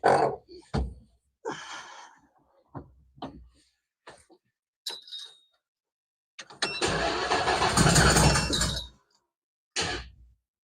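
A car engine in a shop, with the distributor recently removed, cranks in short bursts and catches for a couple of seconds before dying; voices talk briefly nearby.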